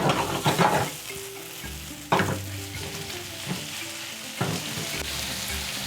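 A spoon works through spicy tomato and pepper sauce for shakshuka in a hot pan, with a low bubbling sizzle under several distinct scraping stirs that come in bursts, close and clear with no voices.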